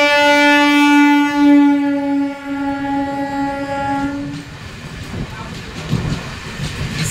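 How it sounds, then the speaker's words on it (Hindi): Train horn from an approaching passenger train near a stopped Patna–Barauni passenger train, loud and sustained for about four seconds, then fading into rumbling rail noise. "ठीक सामने से देख सकते हैं दूसरी पैसेंजर ट्रेन आ रही है।"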